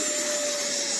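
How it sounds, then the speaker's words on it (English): Jet engine of a FreeWing F-22 RC model jet, a loud, steady turbine whine and rushing roar held close and unbroken for about a second, with no talk. "That's an actual jet engine on that thing."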